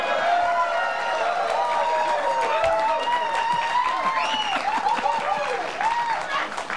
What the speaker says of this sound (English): I didn't expect applause there,